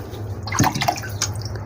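Water is poured slowly from above over an iguana with a thin tail, giving a few soft splashes and trickles, close and quiet, with no talking.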